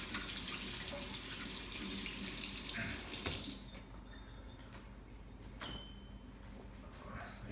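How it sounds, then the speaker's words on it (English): Tap water runs loudly into a sink as hands are washed while rolls are being prepared, then the flow cuts off around the midpoint, leaving quieter room sound with a few faint drips and clinks. "let me wash my hands real quick a little bit."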